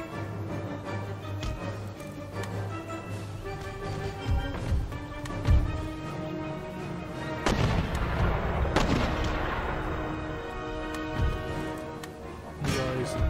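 Artillery fire in an Empire Total War battle: repeated booming cannon shots over a dense, continuous din of musket fire and battlefield noise, with a heavier burst midway.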